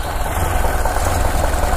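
A 1930 Ford Model A engine idling up close, a loud, steady low rumble with an even mechanical pulse and no voices.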